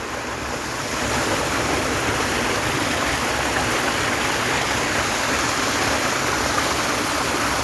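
River current flowing through a basin gives a loud, steady, broadband rush of water, continuous and close throughout with no talking.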